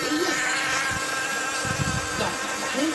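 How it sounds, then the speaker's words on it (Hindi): Bees buzzing in a morning setting, heard as a steady, loud, continuous drone with a faint rising and falling whine and no talk. "और इसी तरह से मधुमक्खियों के गुंजन की आवाज भी हम सुनते हैं।"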